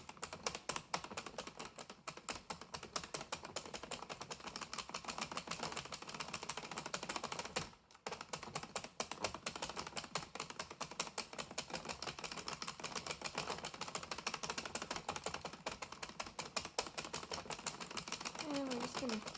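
Addi Express knitting machine working thick yarn, producing rapid, dense clacking and ticking that continues almost without pause, with one brief break midway.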